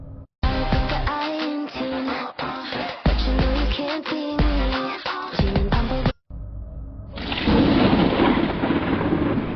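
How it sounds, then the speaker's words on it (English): A thunderstorm at night in Oregon: loud rolling thunder with heavy rain, deep rumbling crashes repeating for several seconds, a sudden brief cut, then a sustained roar of rain and thunder. "There was a thunderstorm that night, which is extremely rare for Oregon, but it does happen."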